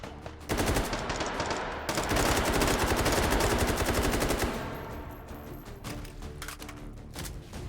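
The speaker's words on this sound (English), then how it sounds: "I know it's kind of hard to hear me during the gunfire." Rapid automatic gunfire rattles in dense, loud bursts during a Take and Hold round of the VR shooter H3VR, easing into scattered shots toward the end.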